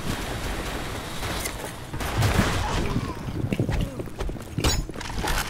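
Gunfire in the online shooter Blackshot, with bursts of shots and sharp reports scattered across the clip, loudest near the end, over a busy background of game noise.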